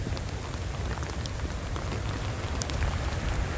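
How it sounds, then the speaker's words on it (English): Steady rain falls at a state park on the Pacific coast of Washington, a dense, even patter of drops with scattered louder close hits throughout. "it's really starting to rain"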